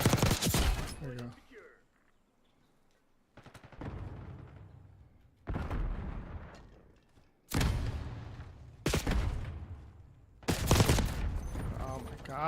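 Call of Duty ranked Hardpoint gunfire, bursts of automatic fire coming in several loud, separate volleys with short pauses between them, mixed with thuds and game effects.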